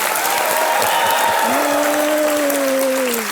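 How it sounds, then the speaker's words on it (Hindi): Sustained studio audience applause on a TV quiz show, dense and loud throughout, with a musical tone swelling beneath the clapping. "तालियां बजती रहें"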